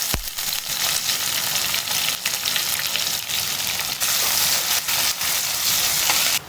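Onions and curry leaves fry in a hot pan for a spicy mutton gravy, giving a steady, loud, dense sizzle that crackles on throughout with no voices.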